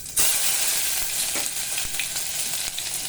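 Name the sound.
cumin and mustard seeds sizzling in hot oil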